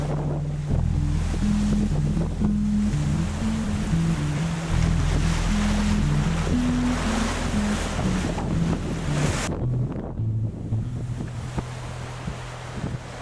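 A sailboat on the open ocean sails to Hawaii, with constant wind buffeting and waves rushing along the hull. Steady whining tones rise and fall over the roar, which eases briefly near the end.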